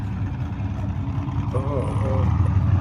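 A muscle car's exhaust rumbles low and heavy during a burnout at a car show, the engine throbbing steadily under excited nearby talk.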